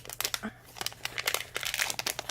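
A rattly packet from an Elves box unboxing is handled and crinkled up close, giving a dense run of crackling, rustling bursts over a quiet hum.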